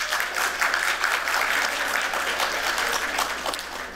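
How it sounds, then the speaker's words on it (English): A room of attendees at a design conference panel applauds, a dense continuous patter of many hands clapping fairly loudly for a few seconds before tapering slightly at the end. "Let's actually give them all a round of applause."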